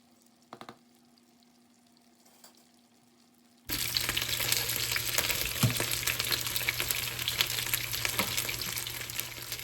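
Steak frying in a pan for a Korean BBQ beef dish: after a near-silent start with a few faint knocks, a loud, steady sizzle and crackle begins suddenly and holds without a break to the end, with no voices.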